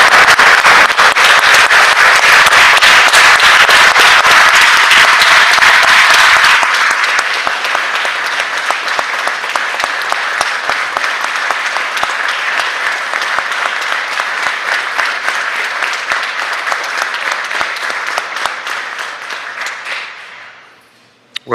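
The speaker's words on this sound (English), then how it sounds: "I think we ought to give Senator Jordan a round of applause." Applause in the Mississippi Senate chamber, loud dense clapping from many hands that thins to a lighter steady patter after several seconds, then fades out near the end.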